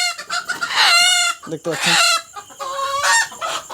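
A native hen held in someone's hands clucks and squawks loudly and close in several agitated bursts, with someone speaking briefly between them.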